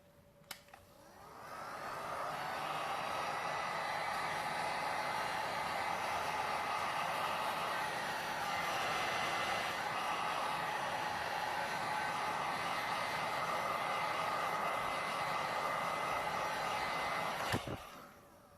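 A heat gun blows hot air over resin art coasters, a steady, loud rushing roar that starts after a click, holds evenly for about fifteen seconds, then cuts off with another click.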